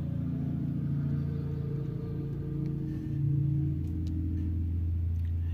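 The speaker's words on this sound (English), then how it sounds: "Nice loud truck" A loud truck rumbles past with a steady low engine drone that swells briefly midway, heard alone over faint background noise.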